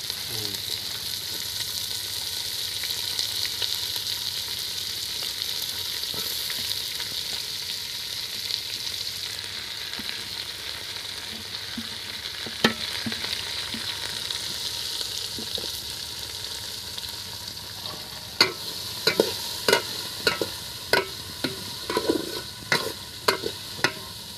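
Long-cut onions fry in a pot for handi chicken, a steady close sizzle and hiss. Sharper stirring scrapes come in toward the end.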